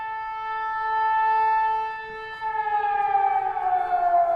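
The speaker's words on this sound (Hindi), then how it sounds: "इन हमलों के बाद अब बगदाद में यूएस कोalition कैंप विक्टोरिया में जंगी सायरन बज रहा है" A war alert siren wails at the US coalition's Camp Victoria in Baghdad, a sustained loud droning tone that swells and then slowly bends in pitch, with no voices over it.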